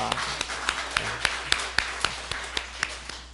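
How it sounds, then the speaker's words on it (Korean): Church congregation applauding during a Sunday service, heard as a quiet, rhythmic series of unison claps at an even beat, about a dozen distinct strikes over a soft background. "우리가 함께 하신 하나님께 영광과 감사의 박수를 올려드리겠습니다"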